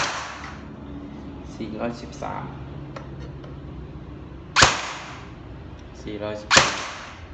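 Two sharp, cracking shots from an E&C 855 BB gun ring out a couple of seconds apart, each with a brief ringing tail, while people talk quietly in between.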